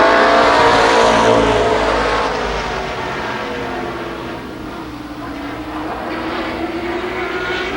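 IMCA modified race cars roar around Columbus Motor Speedway in 1993, a loud, close engine howl from the pack that holds steady and eases slightly as the cars run down the backstretch.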